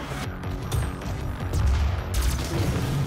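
The Cyber-Mancubus fires its green plasma cannon in DOOM 2016, several heavy booming shots thudding in quick succession amid crashing impacts, loud and close with no voices.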